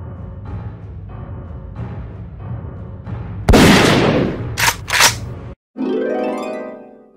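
Pump shotgun shots in a video game: a loud blast followed by two quick sharp reports, after a run of low rhythmic pulses and before a short silence and a rising tone.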